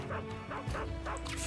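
Dog barking in the video game Metal Gear Solid 3, a few rhythmic yapping barks with whimpers over a game soundtrack, fairly close.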